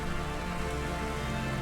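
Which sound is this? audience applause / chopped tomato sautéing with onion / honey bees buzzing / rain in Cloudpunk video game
rain in Cloudpunk video game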